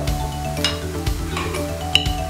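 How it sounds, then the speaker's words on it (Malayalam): Kashmiri chilli powder, turmeric and garam masala sautéing over a low flame in a pan, heard as a soft, steady sizzle with occasional stirring scrapes and one sharp clink near the end, over a constant low hum, with no talking. "ഇതൊന്ന് ജസ്റ്റ് ഒന്ന് വഴറ്റുക, ഫ്ലെയിം കുറച്ച് വെച്ചിട്ട് വഴറ്റണം"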